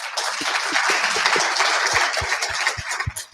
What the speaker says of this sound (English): giving these gentlemen a very big round of applause